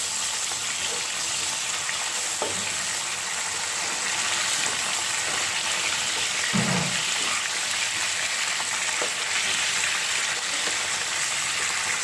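Pabda fish sizzle in oil in a pan, a steady hiss of frying throughout with a brief soft scrape and spatter as the pieces are flipped partway through; no talking.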